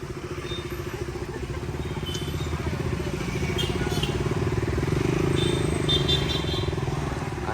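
A motorcycle engine runs steadily at a festival gathering, a low throbbing rumble that grows louder and fuller as the bike pulls away, with faint background clatter.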